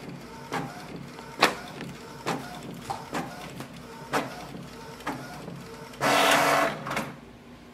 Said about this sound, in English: It will ask you if you want to print the nozzle check sheet. Definitely we want to print that